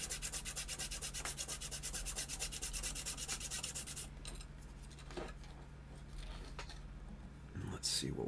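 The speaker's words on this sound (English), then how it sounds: "we might want to start this on sandpaper" A plastic model kit shield rubbed on sandpaper, with steady back-and-forth scraping strokes up close for about four seconds, then quieter scattered handling sounds.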